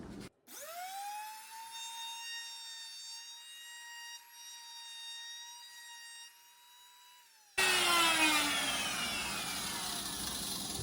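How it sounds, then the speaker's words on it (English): A power tool spins up to a steady, high harmonic whine while a teak table leg held in a tenoning jig gets a soft chamfer, then bursts into louder, rougher cutting noise near the end. "as I tipped around a nice soft little chamfer"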